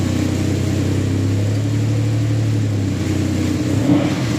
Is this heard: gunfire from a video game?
no